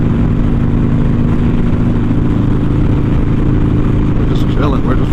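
A motorcycle rides along in traffic with a steady engine hum and road rumble throughout, with a short burst of talk near the end.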